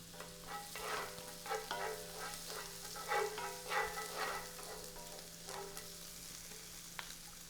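Minced garlic and green onions sizzle and fry in a hot pan, a steady close crackle with occasional stirring scrapes and louder bursts throughout.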